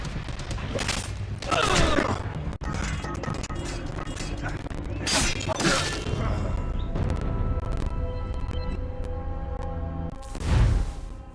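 A volley of musket gunfire in the Assassin's Creed Rogue video game, sharp bursts of shots and crashes amid busy game ambience and music, with a loud final blast near the end.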